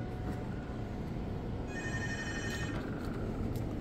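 A telephone rings once in a hotel room, a single burst of electronic ringing about a second long over steady room noise.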